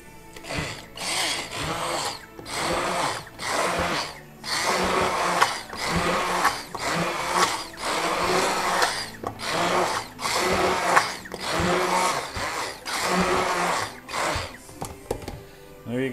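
An electric mixer whirs through pizza sauce ingredients of tomato sauce, garlic, salt and sugar, running in steady, rhythmic mechanical bursts that pulse about once a second, fairly loud and close, with no talking.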